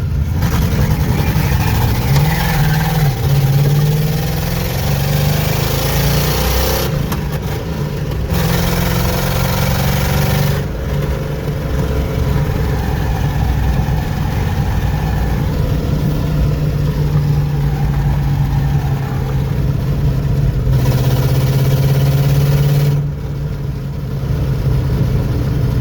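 A junkyard Ford Mustang Foxbody idles loudly and roughly, its low engine drone steady throughout with a few brief dips and slight revs, close to the listener and without speech.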